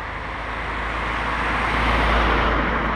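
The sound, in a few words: car passing on road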